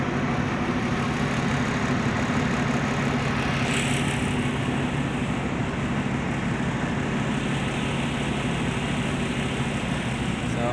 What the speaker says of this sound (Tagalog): May palipad na aeroplano guys, oh. Palipad na aeroplano, maliit.